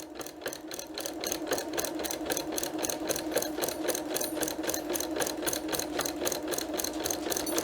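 A sewing machine stitches place mats in a fast, steady run of rapid needle strokes, close and continuous without pause, with no talking.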